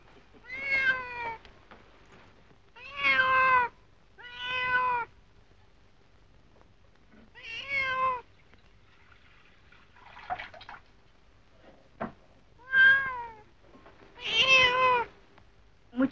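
A cat meows repeatedly, with about eight distinct drawn-out meows spaced by short pauses. They are clear and close in a quiet setting, with a few faint clicks and drips between them.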